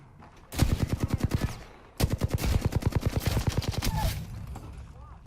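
Gunfire in the video game Apex Legends comes as two loud, rapid bursts of repeated shots close together, the second burst longer, then a quieter tail.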